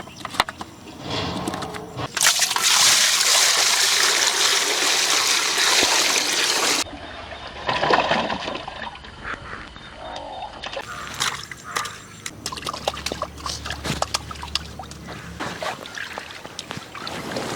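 Fresh fish are washed in water with loud splashing and trickling, close and uneven in bursts, while people talk over it.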